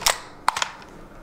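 KWA MP9 green-gas airsoft submachine gun with ABS plastic body cycling its blowback action: two sharp, close metallic snaps, a single crack followed a half second later by a quick double clack.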